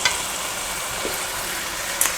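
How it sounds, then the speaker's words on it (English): Steady, even sizzle of onions sautéing in a pan, a continuous crackling hiss with a couple of brief stirring clicks near the end. "the pan where our onions are still sauteing quickly. They're kind of like frying."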